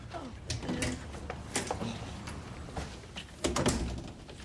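A door rattles and slides open up close, with mechanical scraping and knocks, and a short thud near the end.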